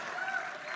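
Audience applause at a film festival tribute, a steady wash of clapping from a crowd, brief and continuous.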